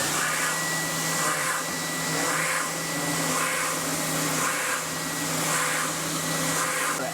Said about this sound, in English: I want to clean that up a little bit on the spindle sander.